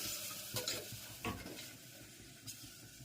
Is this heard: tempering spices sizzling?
yes